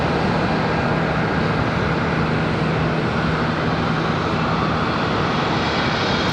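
A Southwest Airlines airliner departs Charlotte Douglas airport bound for Dallas, its jet engines a loud, steady broadband roar that holds without break throughout, with no voices.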